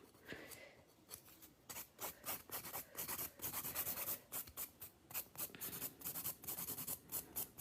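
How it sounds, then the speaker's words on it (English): A nail file is worked over Akzentz gel on a nail tip, making quiet, close, rhythmic scratchy strokes in quick back-and-forth bursts. "So I'm filing on this side of the product and almost removing it like a fill"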